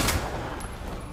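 In the video game Resident Evil 2 remake, a sharp burst of gunfire opens, followed by a loud, sustained rumbling blast that fades away.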